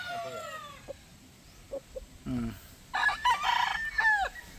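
A rooster crows loudly nearby, with several strained, rising calls and some clucking, among other fowl kept by a breeder, while people talk in the background.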